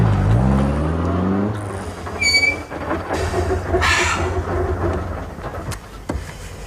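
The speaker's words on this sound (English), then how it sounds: "Switch on. Starter. Clutch. Gears. Handbrake." An old car's engine turns over and revs into a loud, steady low rumble that fills the whole stretch, with a few brief higher rattles and clicks on top.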